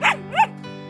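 A dog gives two short barks in quick succession, close by, over a steady low hum.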